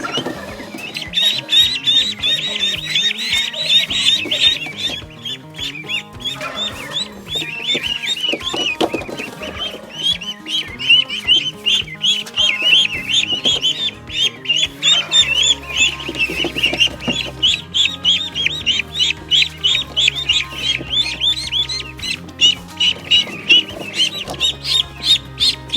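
Welsh Harlequin and Pekin ducklings peep in a dense, high-pitched chorus close by while being loaded into a cage, with handling bumps and low rumbles joining partway through.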